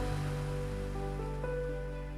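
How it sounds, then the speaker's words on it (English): Steady broadband rush of the Rain Vortex, the huge indoor waterfall at Jewel in Singapore's airport, a continuous close wash of falling water with a faint low hum beneath it. "Jewel's centerpiece, the Rain Vortex, is the largest indoor waterfall in the world"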